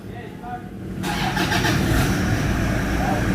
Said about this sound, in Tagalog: Okay, so start na yung makina guys.